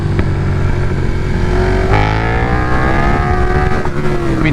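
A 2022 KTM 1290 Super Duke R revs hard and accelerates up through a gear change, its engine note rising steadily, loud and close, with a brief dip before pulling again.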